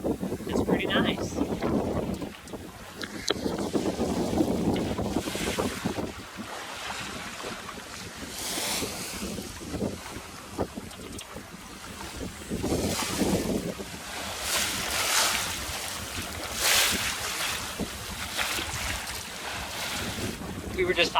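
A sailboat under sail with the engine off, making about 4.2 knots on the way to Solomons Island, Maryland: steady wind buffeting and washing waves against the hull rise and fall throughout, with occasional voices in the background.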